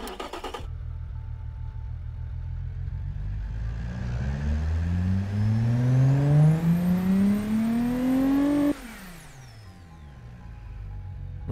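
A six-cylinder car engine in the Automation game's test runs up through a long rising rev sweep from idle, climbing steadily before cutting off abruptly and settling back to a low idle hum; loud and continuous, no talking.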